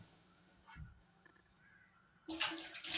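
Water from a tap in a train washroom, a faint trickle at first, then a sudden louder gush of running water near the end over low train rumble.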